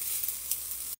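Fried rice with green peas and tomato sizzles steadily in a hot pan, a dense continuous hiss with faint stirring scrapes, close and loud until it cuts off abruptly.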